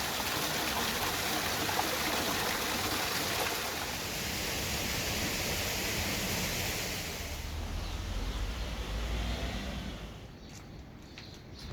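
Cascades at the entrance of a hotel in Cabo de Palos pour in a steady, full rushing wash of water that holds evenly for several seconds before thinning out near the end.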